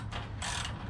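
A wrench ratchets while tightening a bolt on an LED light pod mount on a Ford F350, two short bursts of close, rasping pawl clicks.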